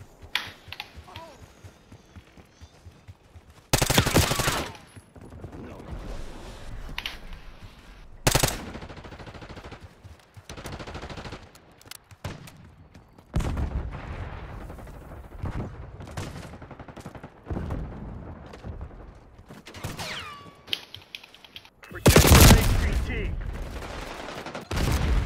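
Loud bursts of automatic gunfire in Call of Duty: Black Ops on a satellite map, coming in several sharp volleys separated by quieter stretches of scattered shots and radio-style voices.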